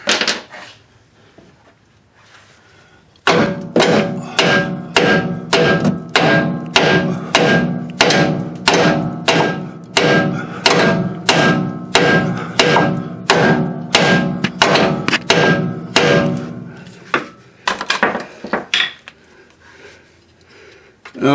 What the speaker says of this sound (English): We're gonna get the bigger hammer.